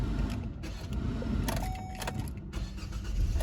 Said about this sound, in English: Helps if I actually turn it on properly with me foot on the clutch.